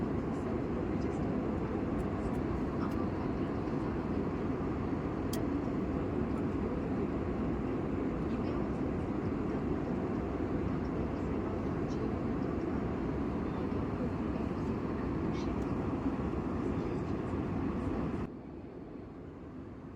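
Steady broadband cabin roar inside an airliner descending toward landing on a flight to Pune, a constant low rumble and hiss throughout that drops slightly in level near the end, with no talk heard.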